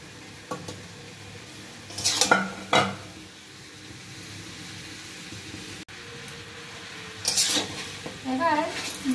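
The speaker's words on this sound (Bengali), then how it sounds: "এবার নাড়াচাড়া করে নিলাম একটু" Vegetables stirred in a cooking pot: bursts of scraping and clattering against the metal, with a gap between them, over a low sizzle, close and moderately loud.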